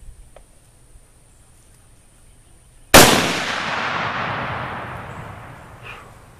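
A single loud gunshot fired outdoors, a sharp blast with a long decaying echo after a quiet lead-in, while a person practises shooting at an orange.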